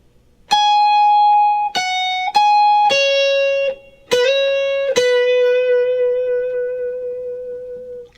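An electric guitar plays a short solo phrase of bright sustained notes with bends and slides, the last note ringing out long, with no talking.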